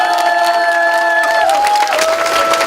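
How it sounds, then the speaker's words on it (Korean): Crowd at a ceremony marking an agreement to close the Yongsan off-track horse betting center in Seoul, with students, parents and teachers from a girls' middle and high school and local civic and labor groups, cheering loudly and steadily alongside a sustained tonal whistle or horn. "큰 박수 부탁드립니다"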